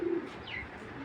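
A young racing pigeon gives a brief soft coo with a faint higher chirp, close and alone in a loft of mixed pigeons.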